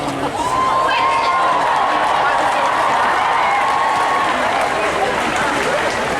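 A massive crowd at a school climate strike rally in Wellington makes a steady, loud wash of cheering, chatter and scattered clapping that holds for the whole stretch.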